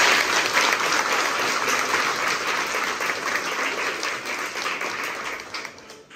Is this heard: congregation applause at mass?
yes